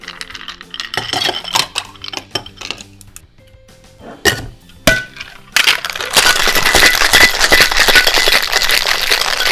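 Ice clinks and clatters into a cocktail shaker in a few sharp, separate hits, then the cocktail is shaken hard with ice in a loud, continuous rattling rush.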